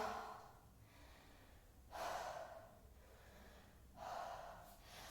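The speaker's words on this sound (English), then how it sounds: "if your breath is getting heavy, exhale out by your mouth" During a yoga flow, a person breathes heavily and exhales through the mouth, giving two long, breathy whooshes a couple of seconds apart, close and soft, with quieter breathing between them.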